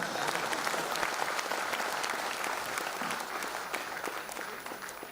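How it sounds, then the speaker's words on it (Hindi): Audience applause fills a live investment workshop in Mumbai, a steady dense clapping from a large crowd that holds evenly for the whole stretch with no talk on top. "अरे खुद के लिए तो ताली जोर से बजाओ."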